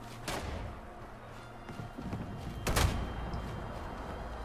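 Two heavy shotgun blasts ring out in the video game Atlas, about two and a half seconds apart, each a short booming burst over a low rumbling background.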